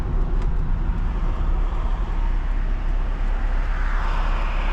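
A 1992 Ford Sierra Sapphire Cosworth on the move, heard from inside as a steady, loud engine drone and road rumble that holds an even level throughout, with no voices.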